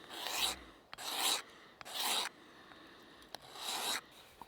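A wooden axe handle being sanded by hand: four strokes back and forth, each a bright rasping sweep lasting about half a second, with short quiet gaps between them. The sound is close and clear, with no talk over it.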